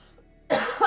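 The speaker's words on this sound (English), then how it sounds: "still fighting that cough" A single sharp cough, close and loud, bursting out after a near-silent pause.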